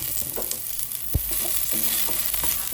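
Garlic frying in a small amount of oil, giving a steady close sizzle with a few light spatula taps and scrapes.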